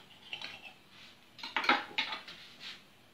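A knife and fork cut through baked spinach and ricotta cannelloni on a plate, giving a few faint clinks and scrapes of cutlery against the dish, quiet and close.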